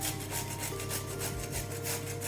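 Cauliflower scraped against a grater in steady back-and-forth rubbing strokes, close and fairly quiet, with no talking.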